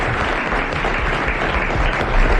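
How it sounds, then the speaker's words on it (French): A French television studio audience applauds a contestant from Courbevoie in 1990, with loud, dense, continuous clapping that fills the room, slightly swelling near the end. "vous applaudissez Monsieur Ruget de Courbevoie"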